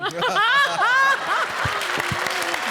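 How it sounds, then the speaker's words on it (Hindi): On a televised comedy stage show, a studio audience bursts into loud, dense applause after a short stretch of voices and chuckling, and the clapping then carries on steadily to the end. "जोरदार तालियां, क्या बात है"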